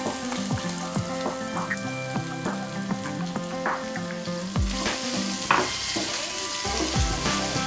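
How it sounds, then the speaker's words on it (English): Potatoes browning in oil in a pan, a loud close sizzle with bubbling crackles and repeated stirring scrapes, heard alone without voices. "Now in the same oil, I am going to brown the potatoes."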